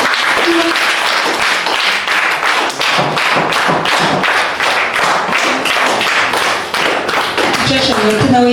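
Children at a school birthday celebration clap rhythmically in steady, loud unison beats that continue throughout, with voices mixed in.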